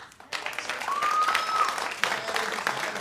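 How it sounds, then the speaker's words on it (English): A Unitarian Universalist church congregation at a Sunday service breaks into a brief, lively round of clapping, close and full, with a short whistle-like tone rising above the hands. "She just loves it when we point at her and clap."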